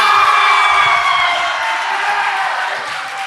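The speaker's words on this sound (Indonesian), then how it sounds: "Ini kayaknya sorakannya bakal kenceng nih" A crowd of students cheers and whoops loudly at a school club day as a name is called, a bright burst of shouting that starts strong and slowly tapers off over a few seconds.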